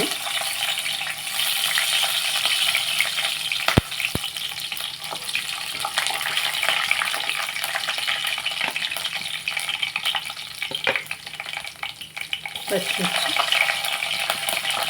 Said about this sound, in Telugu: ఆయిల్ హీట్ ఎక్కిందండి మనం ఇందులో కొంచెం శనగపప్పు వేసుకుందాం ఆవాలని